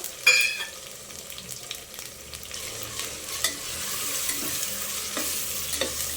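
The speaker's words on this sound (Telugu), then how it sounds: "పచ్చివాసన పోయే వరకు అయితే ఫ్రై చేసుకోవాలండి" Green chillies with cinnamon, cloves and cardamom frying in oil for chicken pulao, a soft continuous sizzle with sharp clinks and scrapes of a stirring spoon against the pan, close by and without talk.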